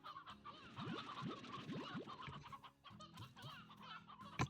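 Video-game chickens cluck in a Slime Rancher ranch scene, a busy cluster of short calls and squawks overlapping one another over a steady background drone.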